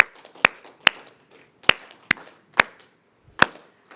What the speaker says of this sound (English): Can we please do a Batupele clap?